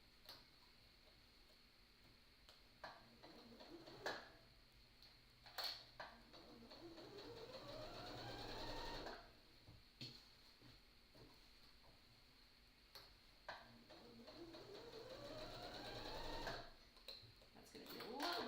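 A sewing machine stitches a tote bag seam, running in several bursts that speed up and slow down, with short pauses and clicks between the runs.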